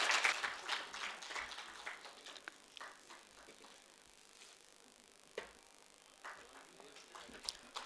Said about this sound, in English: Can we have a big round of applause to CA?